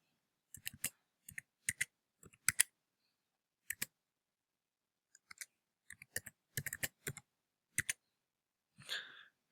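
Computer keyboard being typed on while an Aadhaar number is entered into a form, about a dozen quiet, separate clicks and short bursts spread out unevenly, followed by a soft breathy sound at the end.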